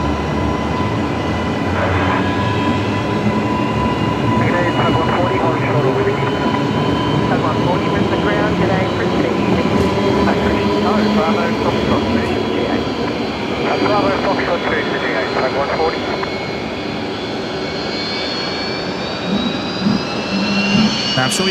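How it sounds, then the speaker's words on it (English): Fokker airliner engine spooling up at Brisbane Airport, a sustained rising turbine whine with layered tonal hums and a low roar, heard from a distance under ongoing talk. "I'm sure you can all hear the Fokker on start up there"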